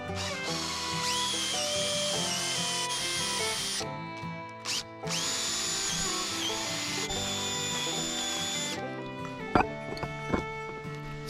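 A power drill whines at high pitch in two long bursts through wood during cabin framing, separated by a brief pause, followed by a few sharp knocks and clatter near the end.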